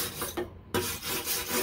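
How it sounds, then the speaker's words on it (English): Lawn mower parts being prepared for paint are sanded by hand with sheets of sandpaper, producing close, steady rasping strokes with a brief pause midway. "I'm just sanding some of this by hand."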